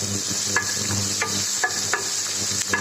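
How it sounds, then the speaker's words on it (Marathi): Onion frying in a pan for a tomato saar, a steady sizzle with a few sharp scrapes of a spoon stirring it, close by and on its own. "आता हे चांगलं भाजू देते कांद्याला"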